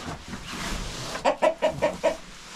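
A hen gives a quick run of five sharp, close clucks after a moment of low background noise.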